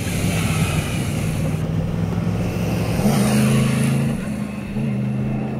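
A Yamaha YZF R1M motorcycle engine hums loudly and continuously while cornering on a ride, with steady rushing wind noise and a slight rise in revs partway through.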